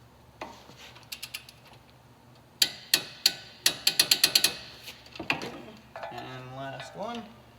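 A ratchet tightens wheel bearing bolts on a 2012 Nissan Maxima, sounding as a quick run of sharp metallic clicks close by, with brief speech-like sounds near the end.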